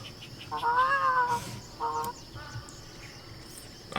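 Wild bird calling in the hunting game The Hunter Classic, a few short, clear tonal calls, one longer and then two briefer, heard at moderate distance over a faint steady ambient hiss.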